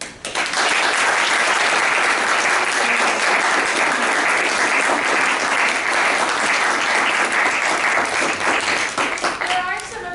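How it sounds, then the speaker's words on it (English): An audience at a goal-setting talk breaks into loud, sustained applause, a dense wash of clapping that holds steady for about ten seconds before tapering off. "we all have another round of applause"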